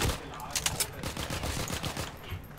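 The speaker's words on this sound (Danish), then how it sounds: "Okay, hvor bliver min mate skudt fra?" Rapid gunfire in the WWII game Heroes & Generals, bursts of close automatic shots crackling steadily for a few seconds under faint game noise.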